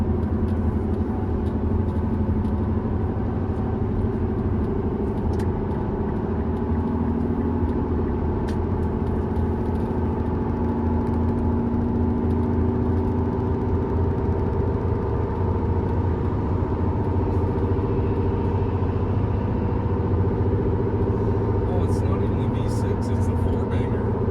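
A car accelerates up a highway on-ramp onto a 65 mph interstate, its mid-pitched engine drone and road rumble steady and continuous from inside the cabin, with a faint whir throughout.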